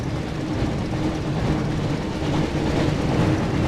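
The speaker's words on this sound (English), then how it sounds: "Looks like we found the train, Ron." The Hogwarts Express rumbles steadily in the PS1 game Harry Potter and the Chamber of Secrets, a dense, continuous low roar of train noise at a constant level with no voices.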